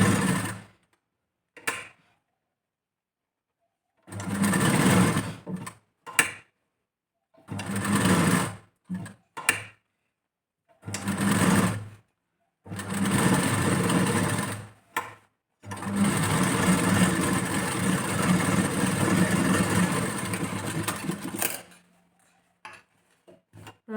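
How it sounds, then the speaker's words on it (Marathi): A sewing machine stitching a blouse runs in several loud, close bursts of rapid mechanical whirring, separated by silent pauses, with the longest run near the end; no speech. "हाफ इंचापासून जे आहे ते आपल्याला शिलाई सुरू करायची आहे"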